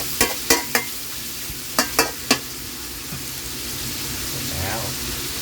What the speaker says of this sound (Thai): ผัดให้มันกุ้งก็ออกนะครับ